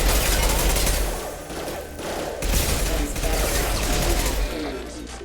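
Sustained automatic gunfire in the video game Mass Effect 2, a loud dense rattle of shots with mechanical clatter that runs almost continuously, briefly thinning in the middle before picking back up.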